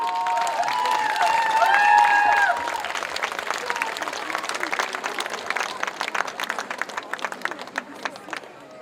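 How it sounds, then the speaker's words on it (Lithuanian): An audience applauds at a youth studio's rock show anniversary event, a dense wash of clapping that swells early under a brief musical tone and then thins into scattered claps, close and sustained. "Jūsų aplodismentai."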